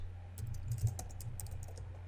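Keys clack on a computer keyboard in a steady run of close, crisp taps, with a low hum underneath and no voices.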